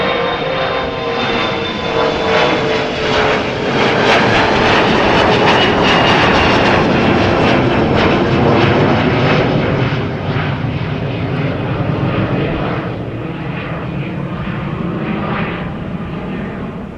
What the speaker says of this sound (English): So SAS going to Copenhagen, CRJ 900 long range, 5 years old,